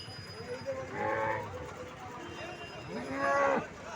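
A calf at a cattle market in Anantapur moos twice, low and drawn out, the second call louder, with quiet background noise between the calls.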